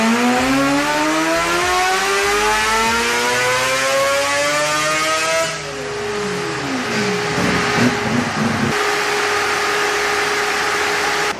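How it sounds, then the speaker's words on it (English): A Toyota Supra engine on a power run revs hard, its pitch climbing steadily for several seconds before a sharp cut, then a fluttering wind-down and steady lower tone. "And I'll just fire it up, do a rip"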